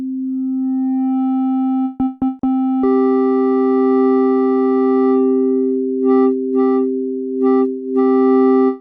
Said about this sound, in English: Let's start with sine wave.